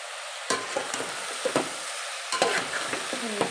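Coriander, mint and masala frying in a pan for soya vegetable pulao, a bright sizzle punctuated by repeated spatula scrapes and taps, close and fairly loud with no talking.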